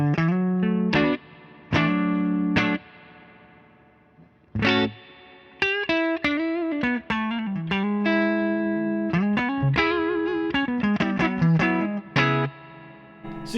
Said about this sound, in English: This is the reverb completely cranked.